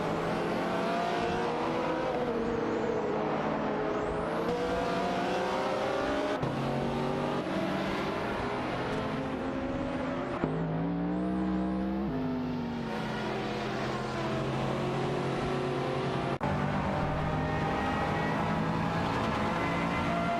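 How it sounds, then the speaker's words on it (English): Mosler N900 and Ipo Kuruma racing cars in a driving video game roar continuously at high revs, with rising and falling engine pitch as they battle on track, loud and steady throughout over a busy mix. "N29 Kia and ABMD are locked in a fierce battle for the 31st position, as they race in a Mosler N900 and Ips Kuruma respectively."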